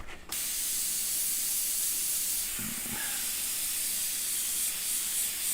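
Fake blood paint mix sprays in a steady, close hiss that runs almost without a break, with a short quiet moment at the start and a few faint knocks partway through.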